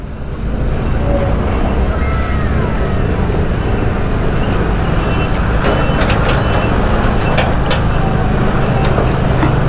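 A Nissan Quester truck passes nearby on an Indonesian road, its loud, steady engine and road roar filling the air, with a few brief higher tones over the rumble.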